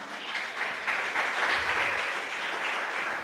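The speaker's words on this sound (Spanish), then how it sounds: "Dale un fuerte aplauso al Señor." A church congregation claps together after a Spanish-language sermon, making a continuous, fairly full applause of many hands that holds at even strength from start to finish, with no talking over it.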